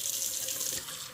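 Water runs steadily from a kitchen tap into a measuring cup for cooking rice, a continuous close hiss and splash with no talking.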